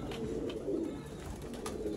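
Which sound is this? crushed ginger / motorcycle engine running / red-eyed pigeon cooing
red-eyed pigeon cooing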